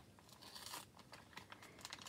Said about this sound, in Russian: Ну, а мы начинаем распаковывать пакетики.